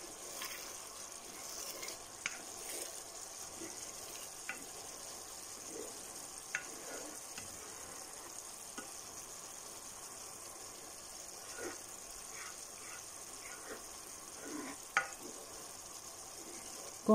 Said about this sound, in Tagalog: dahan-dahan lang natin haluin ng ganito kasi ayun yan ang latik